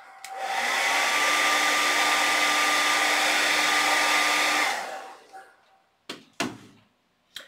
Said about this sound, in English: I'm going to blast it with a hairdryer.